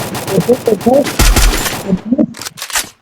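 Rapid bursts of automatic gunfire in the Free Fire video game, loud, overlapping excited voices of players talking throughout.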